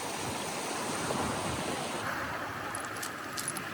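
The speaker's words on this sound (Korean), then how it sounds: "파도가 칠 때마다 물보라와 함께 아름다운 소리가 들린다." Surf breaks and washes over a beach of coral fragments, giving a continuous rushing hiss with light rattling grit. The sound stays close, with a few faint clinking ticks near the end and no voices.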